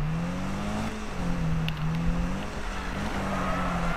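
Subaru engine droning steadily in Need for Speed 2015, a continuous harmonic hum that rises and falls slightly while cruising, loud and close with no talk over it.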